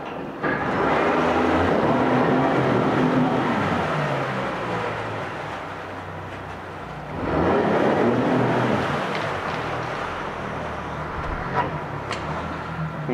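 A 2019 Yamaha 40 hp four-stroke outboard boat motor runs with a steady broadband rumble that swells, eases off, then swells again, fairly close and with no voices over it.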